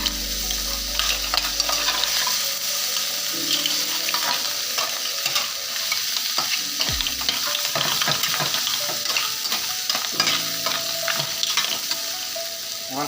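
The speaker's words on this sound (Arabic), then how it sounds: "دابا غنحطو الثوم" Garlic goes into a hot pan for a seafood tagliatelle and sizzles with a constant crackling hiss, while a utensil stirs with occasional scrapes and clicks, up close and with no talking.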